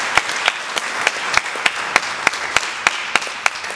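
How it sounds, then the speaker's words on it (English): Applause during a feedback panel at an anime convention: a small audience claps in sparse, evenly spaced sharp claps about every third of a second over a soft room wash, with no one speaking. "Give this guy a big round of applause."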